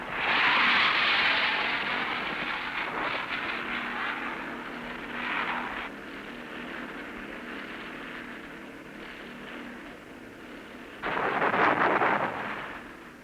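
AH-1 Cobra attack helicopters firing weapons in combat, heard as long roaring rushes of launch noise and rotor wash in old film audio, one loud burst at the start and another near the end.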